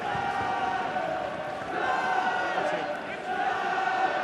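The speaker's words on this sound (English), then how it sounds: "There's a good crowd at Parc Scarlets making plenty of noise." A good-sized crowd at a Scarlets v Munster rugby match at Parc Scarlets makes a steady, diffuse roar of voices and chanting, holding at an even level throughout with a slight swell midway.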